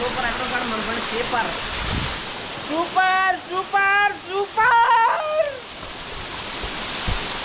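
Rushing water from a waterfall in the Nallamala forest near Srisailam roars as a broad, constant wash, with voices exclaiming excitedly over it in the middle.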